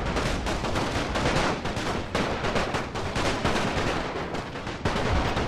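Dense, continuous battle gunfire from massed artillery and musketry in the Napoleonic-era strategy game Total War: Napoleon, a loud, unbroken rumble of overlapping cannon shots and crackling volleys with no talk.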